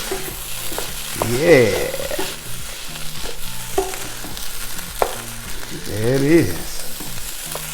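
Shrimp fried rice with green onions sizzles in a pan while a spatula scrapes and tosses it in two bursts of stirring, close and loud, and a person speaks briefly over the cooking.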